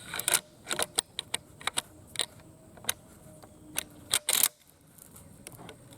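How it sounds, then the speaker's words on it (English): Sharp metallic clicks and clacks as the bolt carrier of a Yugoslavian M70B1 AK rifle is slid back into the receiver during reassembly, a dozen or so close, distinct handling snaps with a louder burst near the end, no talking. "Get our bolt carrier back in here."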